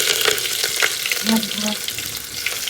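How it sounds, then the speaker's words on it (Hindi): Cumin seeds sizzle and crackle in hot oil for a chole and puri dish, a steady close frying hiss with a few brief tonal sounds partway through. "अभी तेल जो है गरम हो गया है और डाल देंगे जीरा।"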